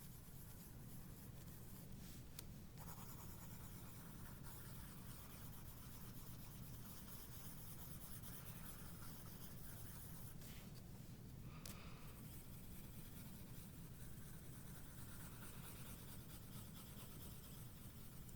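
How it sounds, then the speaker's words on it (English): Graphite pencil pressed hard onto paper in dense scumbling marks, a steady close scratchy rubbing that runs continuously and softly throughout with no talking. "make your scumble marks closer together and press hard with your pencil"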